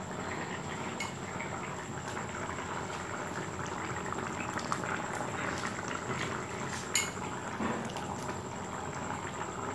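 Fried paneer cubes simmering with boiled potatoes in a pot of vegetarian curry, giving a steady close bubbling and sizzling hiss throughout with a few small clicks and no talking.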